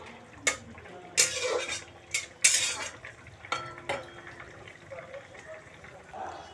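Fried pabda fish goes into a simmering curry with bori and green chilli, marked by sharp clinks of a metal spoon against the pot, irregular stirring scrapes and a faint sizzle, with a voice in the background.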